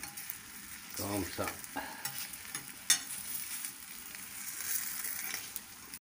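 An onion omelette sizzles softly in a pan as it is loosened around the edges and turned, with faint frying crackle, scraping and a few clinks; a brief word is spoken.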